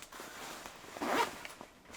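Zip fly on lightweight warm-weather tactical trousers drawn up once, a brief rising rasp lasting about half a second, close and fairly quiet, with faint cloth rustles around it.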